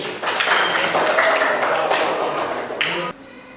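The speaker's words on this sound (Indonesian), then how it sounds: "Tepuk tangan untuk Mas Fadil" Classroom applause for a student: a short burst of clapping from a group of students, close and lively, stopping abruptly near the end.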